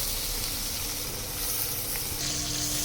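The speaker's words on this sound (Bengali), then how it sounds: "এবার পটলগুলো হালকা করে ভেজে নিব।" Steady sizzling of pointed gourd frying in hot oil, a continuous crackling hiss throughout with no voices.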